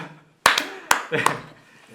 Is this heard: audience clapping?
yes